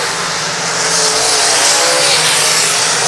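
Race cars roaring around the Lakeside Speedway oval during a late-race lap, a loud continuous wall of engine noise from close by, no voices.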